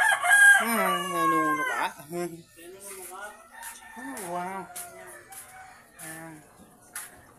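Chickens crow loudly with a long cock-a-doodle-doo up close, followed by repeated clucks and shorter crowing calls, while a few people talk briefly over the birds.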